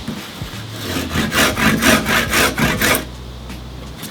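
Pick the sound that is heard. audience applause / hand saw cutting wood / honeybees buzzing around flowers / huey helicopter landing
hand saw cutting wood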